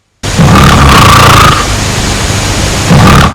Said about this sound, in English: He was snoring.